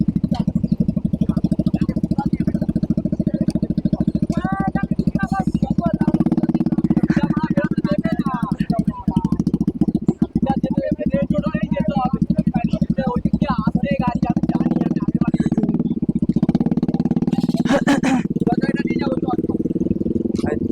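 A motorcycle engine runs steadily through a morning ride out from Babughat at the start of Durga Puja, its droning hum constant and close while a rider talks over it.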